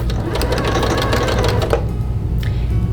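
Home sewing machine stitching quilt pieces, a steady close rapid mechanical chatter that runs for about two seconds and then stops.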